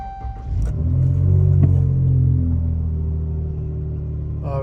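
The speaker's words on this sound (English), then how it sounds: "now we're ready to give it a cold start" A 2016 Dodge Charger with a 3.6L engine and Borla S exhaust fires up from a cold start, a sharp catch followed by a loud, steady rumbling idle that stays close and constant, with a brief higher whir at the end.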